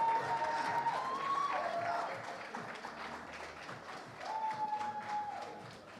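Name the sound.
audience clapping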